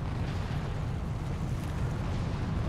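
A bomb blast in the action game Darksiders 2, a dense, loud, steady low rumble that holds without a sharp peak, like a sustained explosion roar filling the whole moment.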